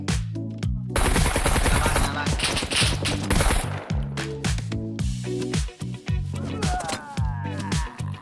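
Gunfire in the game Scum: dense bursts of automatic fire and single cracking shots, loud and close, in rapid clusters across the whole stretch, with a brief lull in the middle and occasional faint voices.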